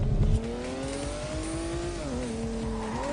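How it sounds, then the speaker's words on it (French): Car drifting in the racing video game Ridge Racer Unbounded: a steady revving engine tone that rises and dips with gear changes, with a brief thump at the start, continuous and upfront with no talk. "on va se faire un drift"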